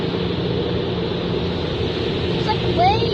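Inside a car going through an automatic car wash, rinse water sprays hard against the body and windows, a dense continuous hiss and rush like breaking waves, heard close and steady with no talk.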